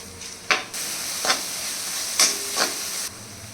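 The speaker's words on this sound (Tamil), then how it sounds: "வெங்காயம் ஆட் பண்ணிக்கலாம்." Onions sizzle and hiss steadily in a hot pan of melted butter and spices for paneer butter masala, with a few louder stirring scrapes breaking through the continuous frying noise; no one speaks.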